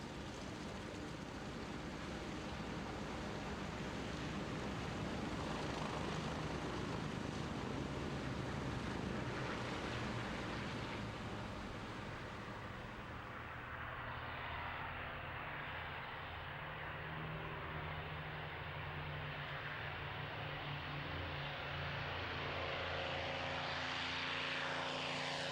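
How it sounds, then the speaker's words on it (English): Corsair F4U radial-engined fighter flying in a tight four-plane formation at an airshow, a loud steady engine roar that swells and then fades with a drawn-out Doppler shift as the aircraft pass overhead. "bringing up the rear, the Corsair F4U, the only radial-engined aircraft in this formation, flown by Keith Skilling"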